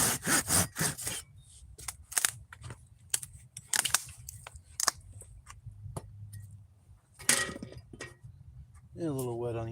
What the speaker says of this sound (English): I've been sawing on a piece of wood.